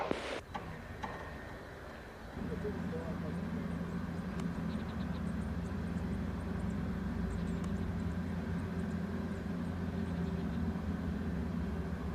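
A WestJet airliner landing on runway 07 at Montego Bay, Jamaica, its steady jet roar building after a brief opening and holding loud and continuous at a moderate distance in calm wind.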